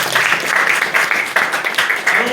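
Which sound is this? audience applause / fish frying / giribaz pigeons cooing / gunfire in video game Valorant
audience applause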